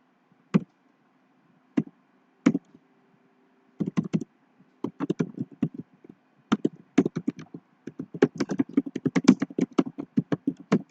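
Keys clatter on a computer keyboard while someone writes LaTeX code, beginning with a few isolated taps and building into quick, uneven bursts of close, crisp clicks with short pauses between them.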